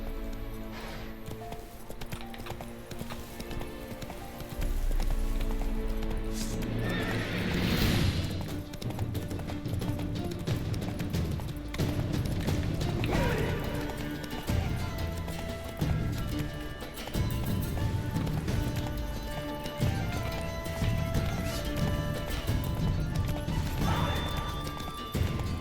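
A horse gallops in the video game The Witcher 3: Wild Hunt, with a continuous run of hoofbeats and occasional thumps and clatter set against game music and ambience.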